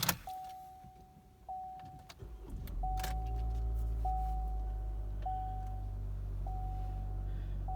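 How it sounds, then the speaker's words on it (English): A 2018 Chevy Cruze LT hatchback's 1.4L turbocharged engine cranks and catches, then settles into a low steady idle while a chime beeps at regular intervals. "I'm going to go ahead and start this car up."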